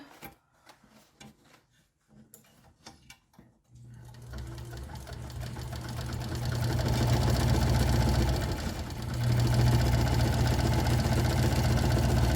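A home sewing machine runs a back stitch along a messenger bag seam. First come a few sparse taps and clicks, then a steady loud motor hum and a rapid needle patter that holds to the end, with a brief dip midway.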